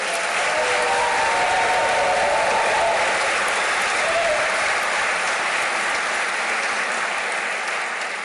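Sustained applause from a large audience at the 2025 West Virginia State of the State address, dense and loud, continuing steadily without speech.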